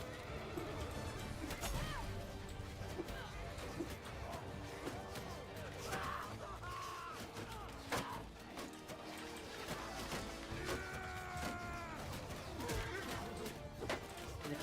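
Horse neighing in a strategy video game battle, a clear whinny rising over dense game music and clashing combat noise, with hoofbeat-like clip-clop mixed in.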